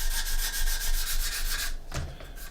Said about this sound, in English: Then we can come in with an old sanding sponge.